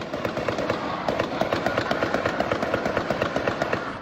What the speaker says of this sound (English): unleashing a barrage of bullets